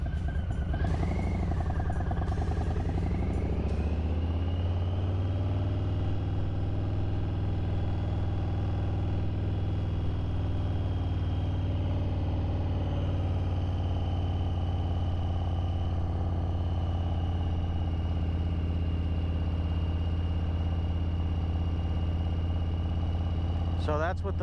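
A motorcycle engine runs with a steady, deep droning hum, picked up close by a helmet-mounted mic, while someone talks over it for most of the stretch.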